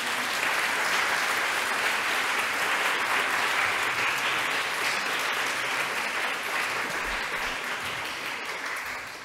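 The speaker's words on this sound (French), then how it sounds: "Je pense qu'on peut les applaudir à nouveau." A conference audience gives sustained, dense applause for an artistic dance performance, loud and steady throughout before tapering slightly at the end.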